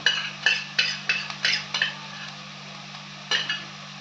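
A spoon scrapes and clinks through ginger garlic paste and chicken sautéing in a pan for garlic chicken, in about ten sharp irregular strokes over a faint low sizzle, with a steady hum beneath.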